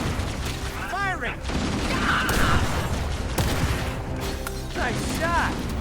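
Halo gunfire bursts with booming weapon blasts and whirring mechanical effects, loud and continuous, while players talk over the action.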